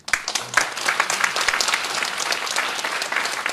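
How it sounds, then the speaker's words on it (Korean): A church congregation claps for the deaconesses, a dense, lively burst of applause that rises quickly and holds steady and close. A few voices call out briefly near the start. "권사님들 한번 진짜 박수를 보내드려야 돼요"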